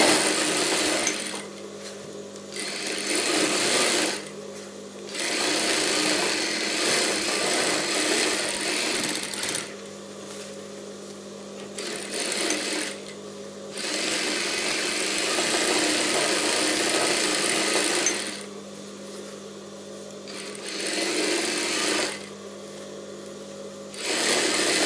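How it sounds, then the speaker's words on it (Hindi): A sewing machine runs stitching a double seam on a padded princess-cut blouse, loud close bursts of rapid needle chatter in several runs separated by short pauses, with no talking. "इसमें हम डबल सिलाई लगा देते हैं"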